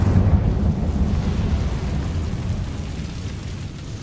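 The Incendio fire spell from Hogwarts Legacy gives off a loud, continuous roaring rumble of flame that fades slowly over several seconds.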